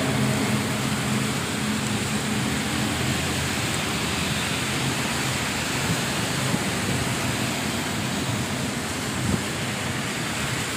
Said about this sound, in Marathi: आज मुंबईत मुसळधार पाऊस पडतानाची ही दृश्य आम्ही आपल्याला दाखवत आहोत